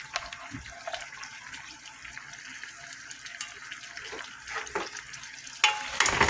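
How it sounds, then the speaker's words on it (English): Garlic and cilantro are stirred in a taco cooking pot, with soft wet scraping and faint sizzle, fairly quiet, and a louder clatter near the end. "I'm gonna give all of that a stir."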